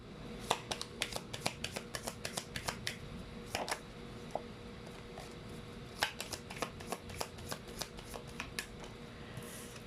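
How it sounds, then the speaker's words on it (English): Tarot cards shuffled by hand, a steady run of crisp riffling snaps and soft slides that comes in bursts, fairly close with a faint background hum and no talking. "let's pull up more cards"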